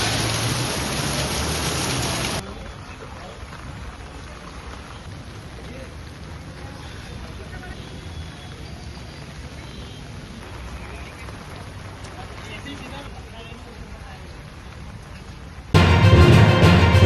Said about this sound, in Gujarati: વાપીમાં 2 કલાકમાં 2 ઇંચ વરસાદથી જળબંબાકાર